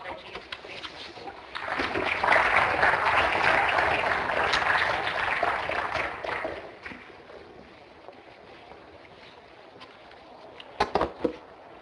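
Audience applause welcoming Father Jason Signalness to speak on the Decree on the Means of Social Communication, a broad wash of clapping rising and holding steady for several seconds, then thinning out into scattered claps.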